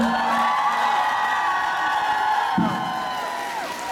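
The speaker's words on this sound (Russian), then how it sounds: "Друзья, аплодисменты отдельно Насте." A concert crowd cheers and whoops after a song, a loud continuous roar with shouted voices and a brief swell near the end.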